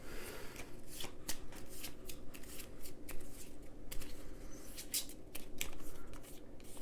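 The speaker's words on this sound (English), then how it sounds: "Shuffle the discard pile to form a new deck." Board game cards from the discard pile being shuffled by hand, a run of close, crisp riffling and snapping card sounds with rhythmic bursts and no talking.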